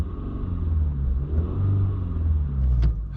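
A 2022–2024 Honda Civic Sport 2.0 with a manual gearbox, clutch in and in first gear, revs up and eases back in a low, steady rumble heard from inside the car, with no talk.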